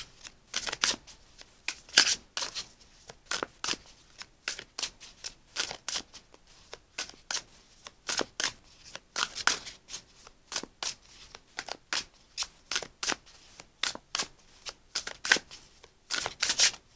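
Tarot cards are shuffled close up in quick riffling bursts, a steady series of crisp flicking rustles with short pauses between.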